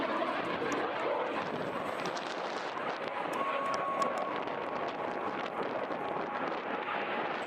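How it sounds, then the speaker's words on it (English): A solo Frecce Tricolori jet flies a tail slide at an outdoor airshow, giving a steady, distant, broadband jet roar that holds level for the whole stretch, with wind buffeting the microphone and no speech over it. "Ladies and gentlemen, this is the tail slide of the solo of Frecce Tricolori."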